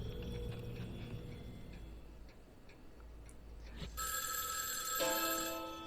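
A ticking clock-like pulse runs beneath a quiet game scene in Spirit Hunter NG, then a telephone abruptly starts ringing loudly with a bright electronic trill that continues to the end.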